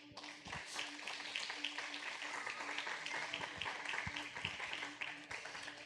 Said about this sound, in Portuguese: E a igreja, a noiva do Cordeiro, aplauda o nome do Senhor.